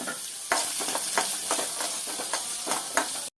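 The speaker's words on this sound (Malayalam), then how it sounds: "ചട്ടി ചൂടായതുകൊണ്ട് ചെറുതായിട്ട് അരിഞ്ഞ സവാള ഇതിൽ ഇടണം." Chopped onion sizzles with a pinch of salt in a hot pan for a coconut-free chammanthi curry, a close, steady frying hiss broken by several sharp scraping stirs.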